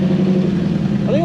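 A Lexus 3UZ V8 cranks and catches after a wire is touched in place of a start relay, a close mid-pitched engine drone with a rising whine at the end and voices nearby.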